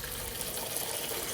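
Hot water runs steadily from a tap or container during a DIY wallpaper removal job, a continuous rushing, gushing flow filling a vessel at close range, with no talking.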